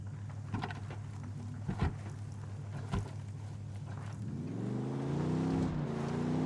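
A car engine in a video game revs and climbs steadily as the vehicle starts off, rising in pitch under earlier footsteps and low background hum, fairly close and moderate in level.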